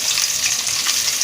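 Chopped onion frying in hot oil for a beef khichuri, a steady dense sizzle that holds loud and close for the whole moment with no voices.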